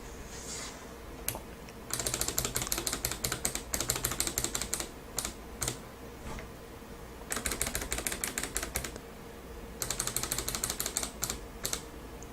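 Keys on a Razer Ornata Chroma Hybrid keyboard clatter in quick bursts of typing, with pauses between the runs, close and fairly quiet against a steady background hum.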